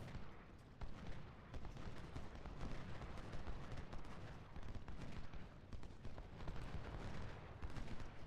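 Enemy artillery fire in the Civil War strategy game Ultimate General: Civil War, a dense continuous rumble of distant cannon and musket volleys with scattered sharper cracks, steady and moderately faint throughout.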